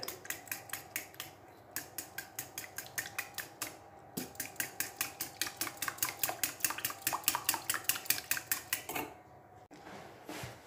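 A spoon or whisk clinks rapidly against a bowl while milk is mixed into pastry dough for a fruit tart, the quick rhythmic taps running near and steady with brief pauses.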